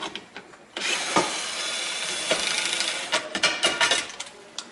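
A power drill runs in a smart-factory assembly operation, its steady whine starting abruptly after a short pause and holding loud and close, broken by several brief clicks and dips.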